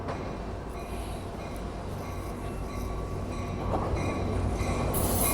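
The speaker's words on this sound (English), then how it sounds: "Once again, this is Amtrak Joaquin Train 719 arriving." An Amtrak San Joaquin passenger train, number 719, pulls into a station in Oakland, its rumble and rolling wheels steady and fairly close, with faint squeals and clicks growing slightly louder toward the end; no talking.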